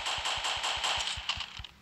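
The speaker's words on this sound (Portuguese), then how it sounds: "Nossa, tá vindo tiro de tudo quanto é lado" Gunfire in Roblox, inside an Ant-Man factory map, rattles as a fast, even run of shots, about nine bursts in under two seconds, fairly quiet and without talk.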